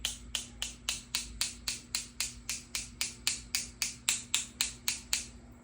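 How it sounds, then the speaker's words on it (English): A watercolor paintbrush loaded with green wash is tapped to splatter paint, giving about nineteen sharp, evenly spaced taps, close and quiet, over a faint steady hum. "So make a nice wash, and then I'm going to just tap my brush."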